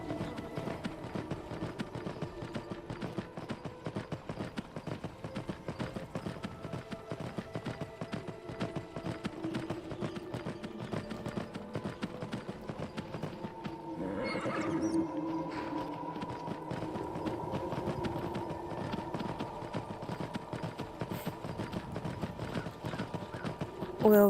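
A riderless horse clip-clops past in the Skyrim VR video game, with steady hoofbeats and a whinny under ongoing game ambience, growing slightly louder around the middle as it nears.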